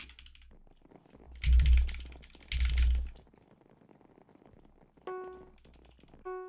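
Typing on a HyperX computer keyboard during an online game, with quiet clicking, two louder bursts of rapid keystrokes and a few brief tonal game sounds near the end.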